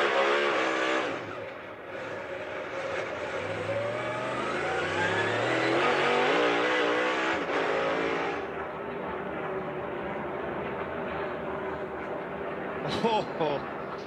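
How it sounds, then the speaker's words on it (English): NASCAR race cars roar past on a road course during a multi-car spin, engines revving and shifting as they pass close by and then fade away, with a commentator talking over the noise throughout. "And Austin Cindric has spun"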